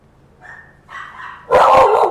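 A dog in the video game Fallout 4 gives a couple of short, soft yips, then one louder sharp bark, close by and otherwise quiet.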